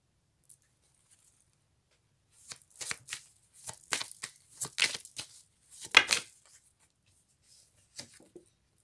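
Cards for a card reading being shuffled and drawn, a cluster of close papery riffles, slides and snaps in short bursts amid near silence.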